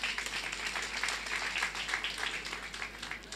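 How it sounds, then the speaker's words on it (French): An audience applauds at a student association's eloquence contest in Yoff, giving a sustained, faint patter of many hands clapping with no voices heard. "Mon ami et neveu, El Hadj Mamadou Ndoye, que je vous demande d'applaudir très fort"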